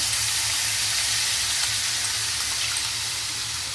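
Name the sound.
onions frying in pan for tiger prawn malaikari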